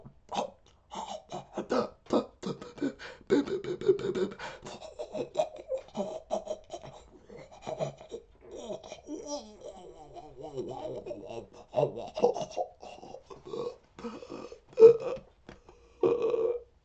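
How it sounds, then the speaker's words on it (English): A man makes staged choking noises: strained gurgles, gasps and throaty croaks in uneven bursts, close and fairly quiet, with no other sound around them. "today's free sound effect is going to be a man being choked"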